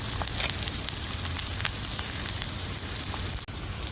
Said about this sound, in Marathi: आता कांदा मी परतून घेते आणि कांदा ना आता लाल होत तर मी परतून घेणार आहे